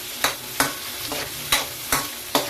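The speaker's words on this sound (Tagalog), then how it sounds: "Gisa, gisa lang yung gulay guys." Vegetables with onion and garlic being sautéed in a pan for ginisang sayote, with five sharp spatula scrapes and stirs at irregular intervals over a steady soft sizzle, close and alone.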